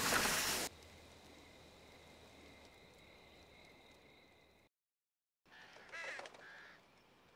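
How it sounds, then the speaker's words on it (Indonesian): Crows caw faintly against a quiet outdoor background, with a few harsh calls that break off into a brief silence and then return. "terbangunkan oleh suara burung gagak"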